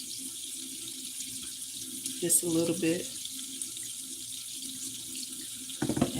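Kitchen tap water running into a cooking pot for a short burst mid-clip, a close steady splashing stream over low room hum, with someone speaking briefly.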